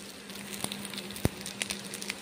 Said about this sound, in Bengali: এইভাবে ভেজে নিতে হবে ভিজে ভাতগুলোকে।